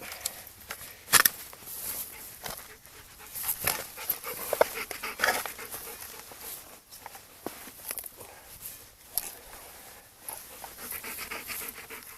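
A dog pants quickly and steadily up close, with faint footsteps and scuffling on gravel and stones around it.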